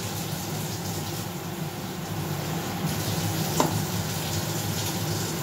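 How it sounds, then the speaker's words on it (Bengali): Mung dal hits hot tempering oil in a pan while lau tangra ghonto is being made, giving a steady, close frying sizzle that holds throughout with a faint clink partway through. "মুগ ডালটা ফোড়ন দিয়ে দিলাম"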